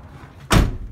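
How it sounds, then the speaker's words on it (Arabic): A door on a 2021 Nissan Civilian bus slams shut midway through, a single loud close thud after a quiet moment, with no talking. "هذا باب"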